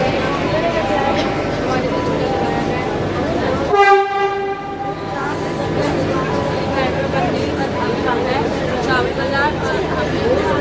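A metro train rumbles steadily through a metro station, then a loud horn blares briefly before the rolling clatter continues, with murmuring voices in the background.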